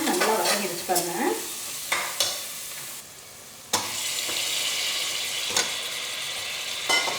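Brinjal sautéing in a pan gets stirred with a spoon, producing scraping and clattering strokes over a continuous sizzle that fades slightly after a brief pause, close up and without speech.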